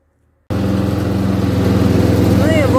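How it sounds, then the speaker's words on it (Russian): A ride-on lawn mower tractor engine starts abruptly and settles into a loud, steady, close-up chugging drone, with a brief voice near the end. "выкатила я косилку свою. Еду теперь косить на большой участок, весь скосить."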